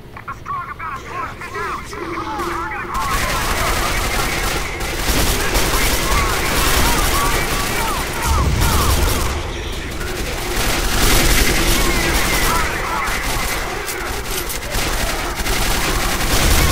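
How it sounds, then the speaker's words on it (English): Sustained fusillade of gunfire in the sci-fi shooter Quake 4, loud and dense nearly throughout, with rapid automatic bursts and game effects layered over one another while a player talks. "Why are you firing up there?"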